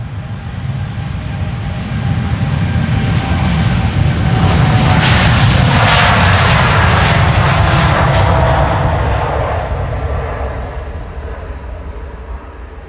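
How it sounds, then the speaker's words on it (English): KLM flight 605, a jet airliner bound for San Francisco, departing Schiphol's Polderbaan runway 36L: a loud, broad jet roar builds to a peak as it passes close by, then slowly fades while the engine rumble lingers. "KLM flight 605 in the meantime, on its way to San Francisco."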